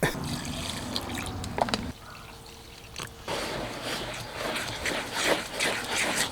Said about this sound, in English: just using this bottle with some water, constantly spraying it down because it really absorbs the water